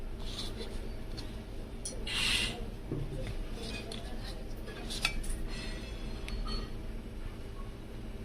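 A spoon scraping and clinking in a pan while bitter gourd is stirred with jaggery and salt, with soft rubbing and a few sharp metallic taps over a low steady background hum.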